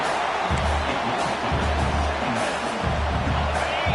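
A football stadium crowd roars to urge on the home defense, a dense, steady wash of cheering and noise filling the space while a commentator's voice runs low underneath.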